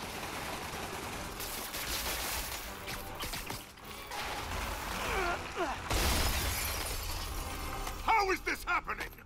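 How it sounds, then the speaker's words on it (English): Glass shattering after an object is thrown in the video game Marvel's Spider-Man, loud and close, with sharp breaking bursts over busy game noise and a cluster of bright crackling fragments near the end. "Threw it at the glass."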